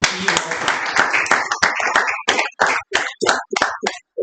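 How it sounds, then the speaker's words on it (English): Audience clapping at a Toastmasters club meeting, a close, fairly loud round of applause that gradually thins into scattered individual claps before stopping. "Please clap for them as I speak on their names."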